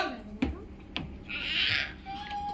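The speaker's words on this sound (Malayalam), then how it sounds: "പൂച്ച" A single drawn-out cat meow, fairly close, after a couple of sharp knocks, with faint background noise.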